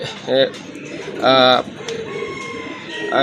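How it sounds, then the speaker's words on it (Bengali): A purebred native Golla pigeon with feathered feet gives two distinct, close, resonant coos about a second apart, with quieter background sounds between them. "এটা হচ্ছে একদম হান্ড্রেড পার্সেন্ট পিওর দেশি গোল্লা কবুতর মৌজাওয়ালা"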